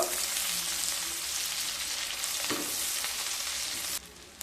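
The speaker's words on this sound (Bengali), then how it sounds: "ওই তেলের মধ্যে একটা রসুনের গোটা রসুন কুচি, সাথে 2টো বড় সাইজের পেঁয়াজ কুচি দিয়ে হালকা ভেজে নেব।" Chopped garlic and two large chopped onions fry in oil for sabudana pulao, giving a steady, loud, hissing sizzle with a brief scrape partway through and a slight drop near the end.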